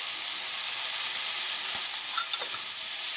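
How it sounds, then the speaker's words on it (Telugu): Tomatoes frying in a pan for an Indian okra curry, a continuous bright crackling sizzle with small pops and faint stirring, steady and close. "టమోటాలు మొత్తము వేగిపోవాలి ఫ్రెండ్స్"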